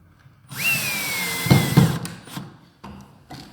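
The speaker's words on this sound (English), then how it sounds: "drill the bottom end to keep it level" Power drill driving into the bottom end of a Neptune Grand wardrobe panel, a single close whine of a few seconds with a couple of knocks, followed by short taps.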